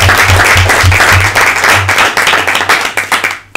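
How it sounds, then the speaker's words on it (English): Loud, dense applause fills a school board meeting room from an AHISD gathering, steady clapping that thins slightly toward the end, with a low electrical hum underneath. "Let's give these guys a round of applause."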